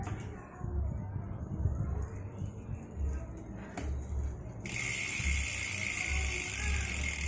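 A Speedone Soldier bicycle freehub with six pawls ticks slowly as the wheel coasts, giving a close, dry ratchet clicking. Partway through, a steady high whine joins in and continues to the end.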